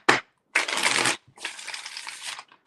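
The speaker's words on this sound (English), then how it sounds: "That's a small shuffle, but I'll go with it." Tarot cards shuffled by hand in three quick bursts: a short riffle, a longer dense flutter, then a steadier run of card rustling, close and fairly loud with short gaps between.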